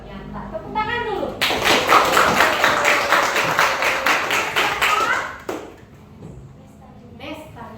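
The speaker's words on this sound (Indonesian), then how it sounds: "Tepuk tangan dulu." A classroom of children claps hands together in a burst of quick, dense clapping lasting about four seconds, with voices speaking before and after.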